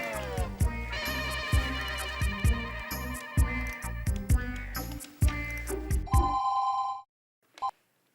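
A loud electronic phone ringtone plays a repeating melodic pattern for several seconds, then cuts off, followed by a short beep in near silence.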